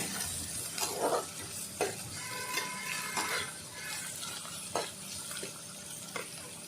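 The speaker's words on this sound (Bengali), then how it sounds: "আদা কুচি, টমেটো কুচি সব একসঙ্গে দিয়ে দেবো। ভালো করে লাল করে কষিয়ে নেব একটু।" Chopped ginger and tomato being sautéed in a pan, a low wet sizzle under intermittent scraping and clinking of a spoon against the pan, quiet and close, with no talking.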